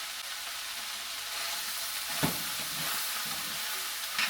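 Jalapenos, green chili, tomatoes and onions caramelizing in a pan give a constant, even sizzle, with one brief stir or scrape partway through.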